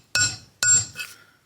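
A hard hammer taps metal valve spring parts twice in quick succession, each a sharp, bright metallic clink that rings briefly, followed by a softer third tap, close and alone.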